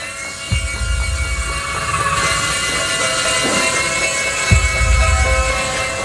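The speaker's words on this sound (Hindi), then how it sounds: "ये हेलीकॉप्टर गार्डन में चलाने के लिए है, घर पर नहीं।" A toy helicopter flies around indoors with a steady, loud whirring rotor drone that runs throughout, with low thumps near the start and again later.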